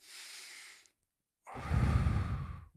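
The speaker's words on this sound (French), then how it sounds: "Une respiration." A person takes one slow breath close to the microphone: a soft inhale, a brief silence, then a long, heavy, sigh-like exhale.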